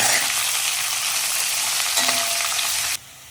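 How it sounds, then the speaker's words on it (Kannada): Onions fry in a pan with a steady, close sizzle and crackle, with a stir audible partway through, before the sound drops away abruptly near the end. "ಆನಿಯನ್ನ ಚೆನ್ನಾಗಿ ಫ್ರೈ ಮಾಡ್ಕೋಬೇಕು."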